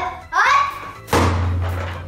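A stick strikes a toy piñata at a children's party, making two solid hollow thunks, the second louder with a short ringing tail, amid a voice.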